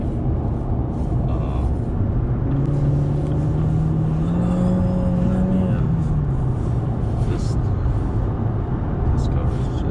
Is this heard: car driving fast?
yes